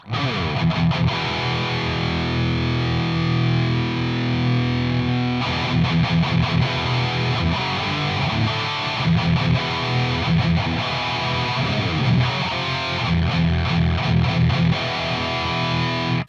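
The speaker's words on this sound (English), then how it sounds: "let's see what happens when I turn the gain up more and get a nice full saturation" Electric guitar through a JOYO Zombie MKII distortion pedal at high gain plays loud, saturated chords and riffs with thick fuzzy sustain, steady throughout with brief pauses between phrases.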